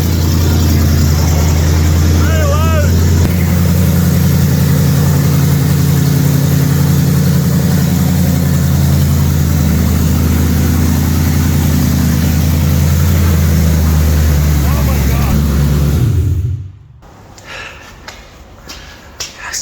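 A Jaguar XJ8 X308 with a 4-litre V8 and a loud exhaust runs close by, a deep rumbling idle with throaty rises in revs, then cuts off abruptly near the end, leaving quiet shuffling.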